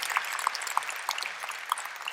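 Church congregation applauding in praise of God, a moderate wash of clapping with several sharper individual claps standing out.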